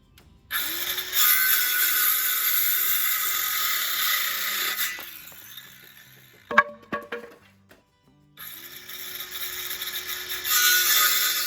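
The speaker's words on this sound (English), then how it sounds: "Knock these out with a quick saw." A circular saw whines through pallet wood in two long cuts, loud and close, separated by a quieter stretch with a few sharp knocks and clinks.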